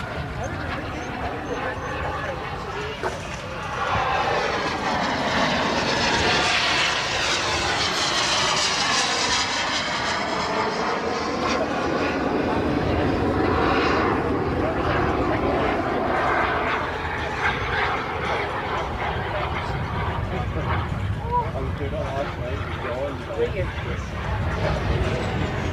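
An F-16 jet backtracks along the runway at an airshow, a loud sustained engine roar with shifting whine that swells and holds, while a commentator talks over it throughout.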